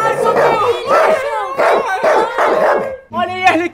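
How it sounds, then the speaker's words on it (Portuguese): A dog barks and growls in an animated parody, loud repeated bursts mixed with shouting, cartoon-style voices and music. "Mas que cachorro maldito."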